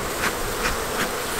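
Honey bees buzz around queen cells in a hive, a steady close-up drone with soft pulsing swells recurring about every 0.4 seconds, with no voices.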